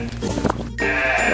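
A sheep bleats loudly nearby, a wavering call, with another animal cry breaking in midway.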